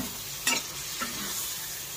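Ridge gourd frying in oil and being stirred, a steady sizzle broken by a couple of brief scraping clatters from the utensil, close and fairly loud.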